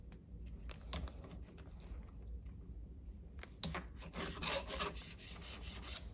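File scrubbing the raker on a STIHL HEXA chainsaw chain, quiet rasping strokes in short repeated passes, growing busier and brighter toward the end, close and faint without talk.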